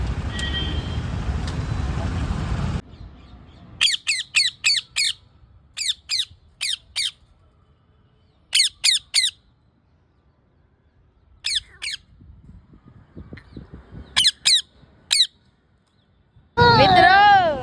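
A pet parrot gives repeated sharp, shrill squawks in short clustered bursts, each separated by quiet gaps, close by. Voices and a faint background rumble are heard at the start and end.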